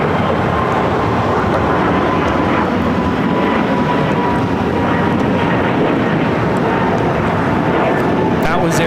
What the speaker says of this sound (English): That was Air Canada 776 taking off to Montreal on the A220-300.